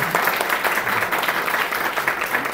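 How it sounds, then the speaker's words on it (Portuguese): A round of applause at a heritage week event, a crowd clapping in a dense, even wash of sound that stays steady and fairly loud throughout the short stretch. "Eu tenho uma salva de palmas."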